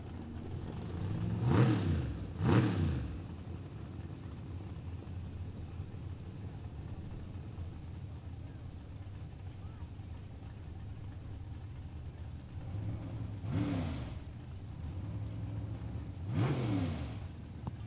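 Late model race cars on a dirt racetrack during qualifying roar past with loud rising engine revs in two close bursts early and two more later, separated by a steady distant engine drone.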